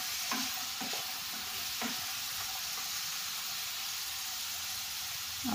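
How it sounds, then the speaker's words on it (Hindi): Field beans stirred and frying in a kadai, a constant bright hiss of sizzling oil with a few soft scrapes of the spoon mixing them. "हमने कढ़ाई में वाल डाल दिया है। अब हम लोग इसको अच्छे से मिक्स कर।"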